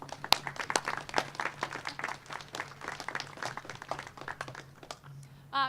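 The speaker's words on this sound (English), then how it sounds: "So give a round of applause for Liz." Sparse, quiet clapping from a small outdoor crowd at a Bike Week press event in Madison, individual claps distinct and scattered over a low hum.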